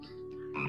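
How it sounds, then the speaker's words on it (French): A toad croaks in a video game, a short, close, throaty croak that rises in strength over less than a second, with no talk. "on est sur la fanfare du crapaud, peut-être."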